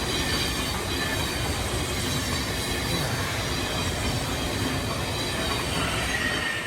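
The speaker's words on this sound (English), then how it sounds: "train coming past again." A train rolls past close by, a continuous loud roar of wheels and rails with a high, steady metallic squeal running through the whole stretch, no voices.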